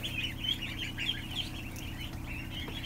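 Many ducklings peep in a brooder, a dense, steady chorus of high chirps layered over a constant low hum from the pen.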